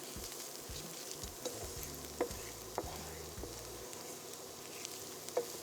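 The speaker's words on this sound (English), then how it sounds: "Then we'll add some diced onion and we're going to season it with salt and fry until it starts to caramelize" Diced onion and cumin seeds frying in a pan: a steady, close sizzle with soft crackles and a few sharp pops and scrapes of stirring, no voices.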